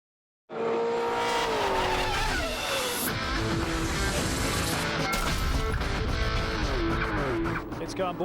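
A V8 race car at Ruapuna braking on a flat-spotted tyre, a loud engine roar with skidding and tyre squeal, changing pitch as it passes, with a commentator talking over it.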